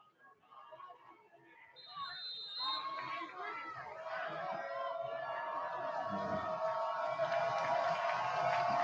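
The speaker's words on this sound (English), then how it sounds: "Crowd is getting hype after that early score" A crowd at a high school football game grows loud and excited after an early score, with broad cheering and chatter building steadily and holding at a sustained roar.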